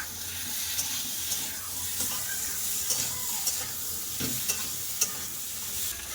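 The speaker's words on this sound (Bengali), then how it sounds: "দিয়ে দিচ্ছি পরিমাণ মতো লবণ সব ভালো করে কষে নেবো" Fish curry with salt is stir-fried in a pan, giving a steady mid-level sizzle broken by repeated scraping stirs and light clinks of a spoon against the pan, with no voices.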